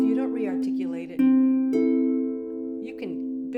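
A sustained piano C held and left to ring rather than struck again, its steady tone decaying smoothly while a few other notes sound over it, close and moderately loud.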